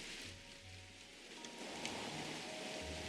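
Rain falls in the medieval city-building game Manor Lords as a soft, steady hiss with scattered faint drops, quiet and continuous under low ambient game sounds, with no talking.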